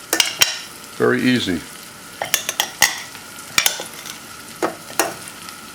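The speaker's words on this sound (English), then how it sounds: "if you need to crack peppercorns and you don't have a grinder, a little, and just press" Peppercorns crushed by hand-pressing without a grinder give a run of sharp, scattered cracks and crunches, close and fairly loud, with a brief spoken remark early on.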